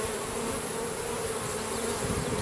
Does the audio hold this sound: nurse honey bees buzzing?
yes